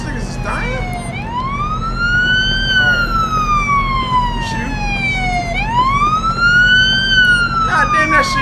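A video game ambulance siren wails, rising and falling in long slow sweeps, loud and close, over a low engine rumble.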